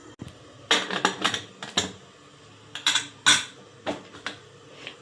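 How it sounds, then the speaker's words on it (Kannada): A pressure cooker lid is fitted and closed on a pot of sprouted horse gram sambar, giving a series of close metallic clanks and clicks in irregular bursts, with no talking. "ಇದೀಗ ಕುಕ್ಕರ್ ಲಿಡ್ ಕ್ಲೋಸ್ ಮಾಡೋಣ."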